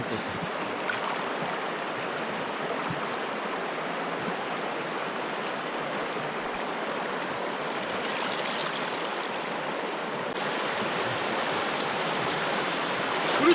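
River rapids rush steadily over a shallow riffle in Chungju during a freshwater cast-net fishing outing, a dense, continuous broadband roar of flowing water that stays loud and even throughout with no voices.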